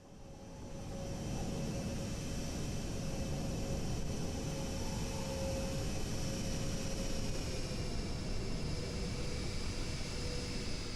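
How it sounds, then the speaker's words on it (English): The engines of a Boeing 737-800 with sharklets in Virgin Australia colours drone in a flight simulator. A steady, loud turbine roar swells in at the start, then holds a constant hiss and whine without speech. "Let's hear those engine sounds."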